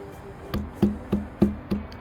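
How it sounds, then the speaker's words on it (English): A small stick or handy hammer taps a nettle stalk outdoors to flatten it, making five close, evenly spaced dull knocks in about a second and a half. "flatten the stalk by hitting it with a little stick"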